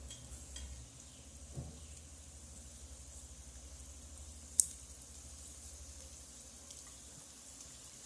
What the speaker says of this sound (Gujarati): હવે આપણું તેલ ગરમ થઈ ગયું છે. હવે એક એક કરીને બધા જ વણેલા બિસ્કિટ આમાં નાખી દઈશું.